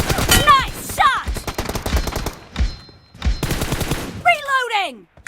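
Rapid bursts of video game gunfire from a team deathmatch shootout crackle in loud clusters, interleaved with chirping effects and other game sounds, while voices talk over the action.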